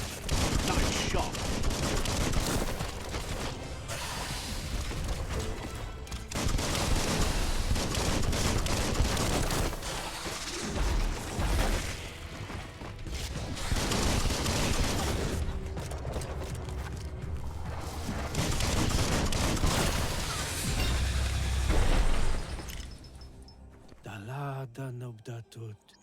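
Rapid bursts of gunfire from the Biomutant video game keep going almost nonstop for about 23 seconds. Heavy low booms come near the end, with game sound layered throughout.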